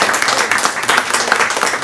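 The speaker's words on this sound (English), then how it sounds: "let's give another round of applause to our panelists" An audience applauds panelists at a startup event: a steady, full round of clapping from a crowd, sustained throughout with no voices.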